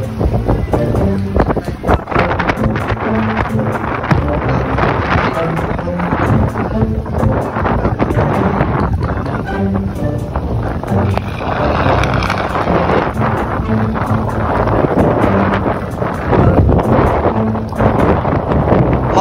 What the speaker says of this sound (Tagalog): kasi napakalakas ng hangin at ng ulan